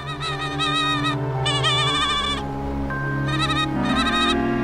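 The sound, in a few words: sheep bleating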